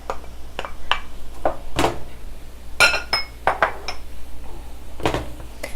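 Metal pan and utensils clank and clink sharply as peas are stirred into cauliflower fried rice, a busy run of close, uneven knocks and scrapes with no talking.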